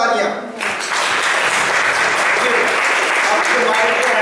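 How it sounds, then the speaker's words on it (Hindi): Loud, sustained applause from an audience at a verse competition results ceremony, a dense wash of clapping that swells after a brief quieter start and holds steady throughout, with some voices mixed in. "जोरदार तालियां।"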